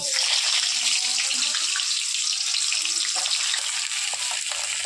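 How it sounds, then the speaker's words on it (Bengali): Pointed gourds frying in hot oil, a bright, steady sizzle close by with a few light clinks and stirring sounds, no speech. "তেলটা গরম করে নিয়েছি, এখন পটলগুলো ভেজে নেব"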